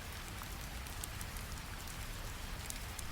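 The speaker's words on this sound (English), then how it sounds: "Rain continues falling outside his window. Drops tap gently against the glass." Steady rain falls outside a window, drops tapping softly and constantly against the glass in an even, unbroken patter with no voices.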